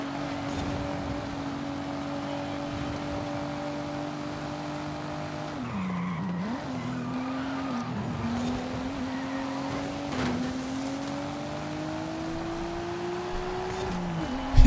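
Stock race cars in Forza Horizon 5 hold a steady engine drone that rises through the gears, with tire squeal and skidding as the pitch dips and climbs again, close and continuous, no talking.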